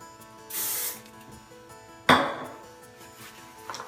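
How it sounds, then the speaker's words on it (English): A short hiss from an aerosol can of dry texturizing hair spray, close by, followed after a pause by a sharp clatter and a fading rattle. "I take a texture spray, it's a dry texturizing spray, and hairspray."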